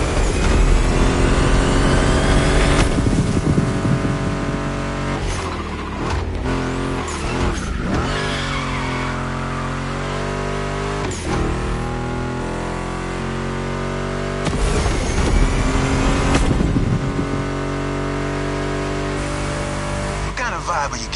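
A loud Mustang GT muscle car engine roars and revs with shifting pitch, tires squealing at moments, mixed with driving music.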